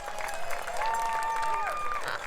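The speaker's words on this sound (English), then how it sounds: "Todd, how about another big round of applause for our sponsors here?" An outdoor crowd at a Walk to End Alzheimer's in St. Petersburg, Pinellas County, applauds the sponsors with steady moderate clapping and some cheering, while a voice carries over the top.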